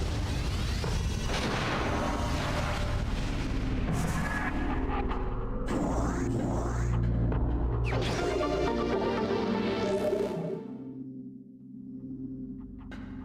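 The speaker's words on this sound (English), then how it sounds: "Alright, let's explode this here" A booming detonation rolls through the Metroid Prime video game, with deep rumbling impacts, sweeping mechanical whooshes and electronic tones building over several seconds before fading into a quieter low hum.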